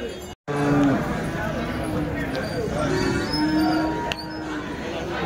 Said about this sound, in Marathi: मित्रांनो ही आपल्या भागातली गाय पण व्यापारीकडे